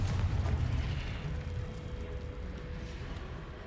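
Confringo fire spell explosion in the video game Hogwarts Legacy: a heavy, deep boom at the start that rolls off into a long, steady low rumble.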